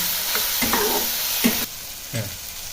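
Noodle ingredients stirred in a hot pan with Yippee noodles, a steady sizzle of frying under several distinct scraping strokes of the spatula; no talking.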